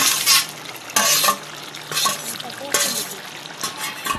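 A drumstick and dried fish curry being stirred in a pan: repeated scraping strokes of a spoon against the pan in bursts, over a soft sizzle, with a voice talking at moments.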